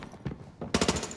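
Gunfire in a video game: a couple of scattered shots followed by a rapid burst of about four loud, close shots in quick succession.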